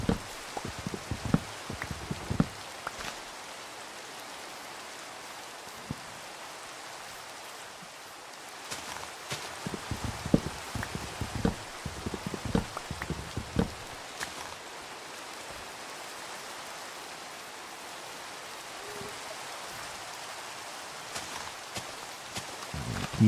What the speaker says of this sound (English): They like the rain.